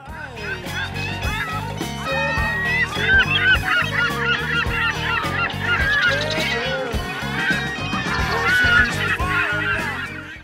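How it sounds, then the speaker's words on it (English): Cartoon birds honk and squawk in a busy, continuous chorus over music, loud and close throughout, with goose-like calls standing in for seagulls. "Seagulls ahead."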